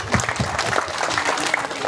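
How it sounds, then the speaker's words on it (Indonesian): Applause from an audience at an Indonesian civic event featuring Betawi culture and a dance performance, a dense steady patter of many hands lasting a couple of seconds with some voices mixed in. "Tepuk tangan."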